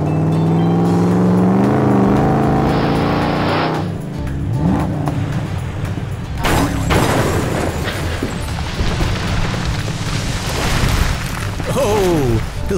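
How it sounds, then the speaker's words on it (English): A green monster truck drives into a stack of 50 blocks and knocks them down, with a revving motor and crashing thuds and clatter over a busy, loud backdrop and voices. "Let's see how many blocks our green monster truck can knock down."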